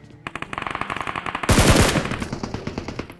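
Rapid bursts of SCAR-L assault rifle fire in the BGMI mobile battle royale game, a steady stream of close, loud shots with a denser, heavier burst partway through, no talking.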